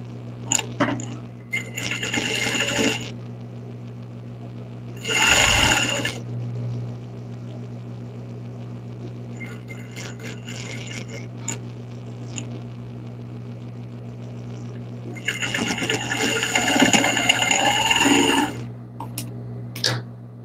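A sewing machine stitching the leg seam of a felt bunny in three short slow bursts of rapid whirring stitches, separated by a steady low mains hum.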